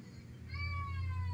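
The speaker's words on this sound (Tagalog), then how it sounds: "Mag-hello ka sa kanila, Solar Cat. Meow. Meow" A cat gives a single drawn-out, tonal meow close by over a low background hum.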